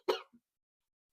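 A single short cough from a woman, near and fairly loud, followed by a faint throat sound and then near silence.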